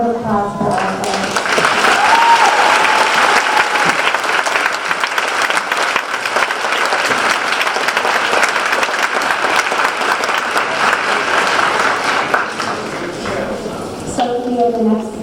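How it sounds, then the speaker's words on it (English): A crowd applauds at the Clarkston Area Youth Assistance Awards Ceremony 2019, sustained loud clapping that fills the room for over ten seconds before tapering off near the end. "So let's give a round of applause for our friends."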